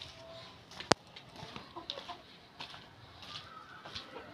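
Laying hens in a backyard coop give a few soft, scattered clucks near the microphone, with one sharp knock early on and no speech.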